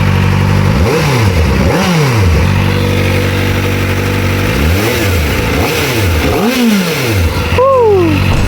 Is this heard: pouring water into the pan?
no